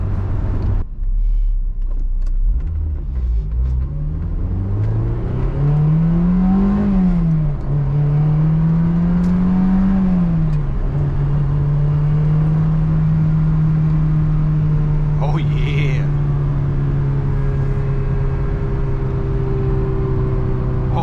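A right-hand-drive Honda S2000 with a stock exhaust drones from inside the cabin while driving, its engine tone rising and settling into a steady hum with a faint rattle later on.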